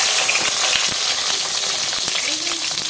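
Cut brinjal pieces frying in hot oil, a loud, dense, continuous sizzle with small crackles popping throughout, close by.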